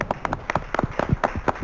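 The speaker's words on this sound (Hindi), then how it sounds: "तो ज़ोरदार तालियों से इस्तकबाल करते हैं देवी रमना मूर्ति जी का" A TV show audience claps to welcome a judge, a quick uneven patter of many hands close by, lively and brief.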